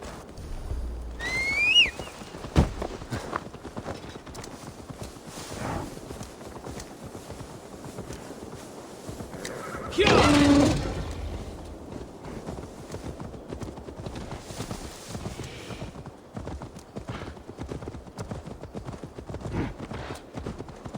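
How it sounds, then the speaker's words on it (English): Horse hooves clip-clopping in Assassin's Creed Valhalla, a steady stream of hoofbeats at a walking-to-trotting pace under game ambience, with a brief burst of louder noise midway and faint snippets of voice. "Now to deliver Magni his horse."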